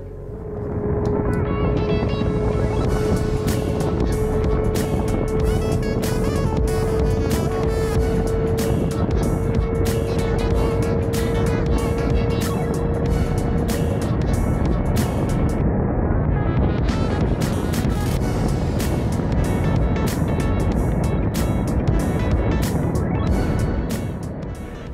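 A turbocharged Kawasaki ZX-25R motorcycle engine roars steadily during a top-speed run, loud and close, while a slipping clutch lets the revs climb and flare, with rhythmic pulsing through the drone and a brief dip midway.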